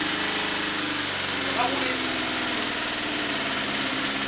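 A Honda CB 500 Four K1 motorcycle engine idles steadily with a low, even rumble and faint mechanical rattle, constant throughout with no talking over it.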